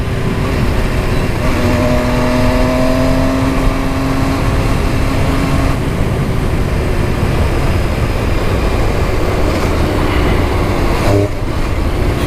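A 2018 MV Agusta Dragster 800RR motorcycle with a 140-horsepower engine, heard while riding as a constant loud roar of engine and wind, with the engine note climbing briefly early on.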